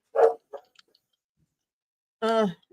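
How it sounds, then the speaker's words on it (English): A dog barks at a delivery arrival: two short, loud barks close by, separated by a quiet pause of nearly two seconds. "Amazon's here. Dog's going nuts."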